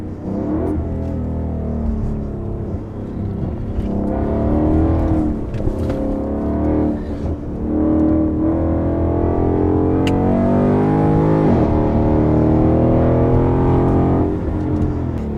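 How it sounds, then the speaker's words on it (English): A new Ford Mustang GT is driven around the Dearborn test track. Its engine makes a steady, loud drone that rises and falls as it revs and accelerates, with no speech. "We took the new Mustang around the Dearborn test track"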